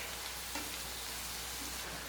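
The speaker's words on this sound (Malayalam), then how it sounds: "ഞാനിത് ഹൈ ഫ്ലെയിമിൽ വെച്ചിട്ട് തന്നെയാണ് കേട്ടോ ഫ്രൈ ചെയ്തെടുക്കുന്നത്." Cauliflower pieces deep-frying in hot oil on a high flame, a soft, continuous sizzle and crackle with faint bubbling, steady and quiet throughout.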